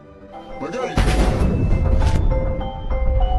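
A deep, booming landmine explosion in a movie bursts out and rumbles on for a couple of seconds, with a muffled voice faintly audible around it.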